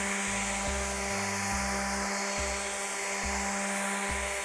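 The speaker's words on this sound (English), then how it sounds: "So as I continue to sand, you can see that the surface is continuing to lighten up." An orbital sander working over rough pine, giving a steady whining motor hum with a rhythmic pulsing throb as the pad is pushed across the board, loud, close and continuous, with no talking.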